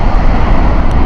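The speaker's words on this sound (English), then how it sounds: "It's 777 here, going through the sky and the breeze." A Boeing 777 airliner passes low overhead at Heathrow Airport, a loud, steady, close jet roar with a broad rumble that holds strong throughout the short stretch, with no talk over it.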